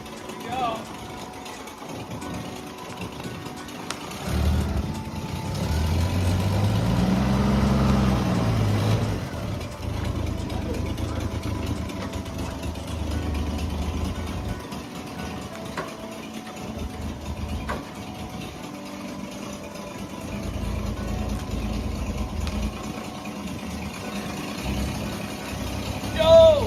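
A 1960s Ford F100 truck engine idles low and rough, then rises briefly as the truck starts moving, with people talking and cheering over the rumble throughout.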